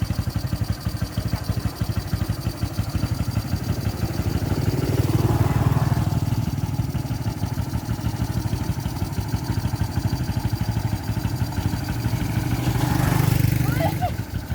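A motorcycle engine runs steadily after being put into gear, a close, rough, throbbing idle that swells slightly twice, with people talking over it.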